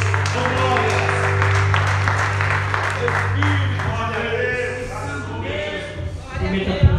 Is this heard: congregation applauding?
yes